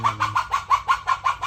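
A chicken clucks loudly and close by in a quick, even series of about nine sharp clucks, heard alone without speech.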